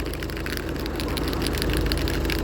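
A Ford Focus engine idling after an oil change with a steady, low rumble, heard close up and continuous, with no voices present.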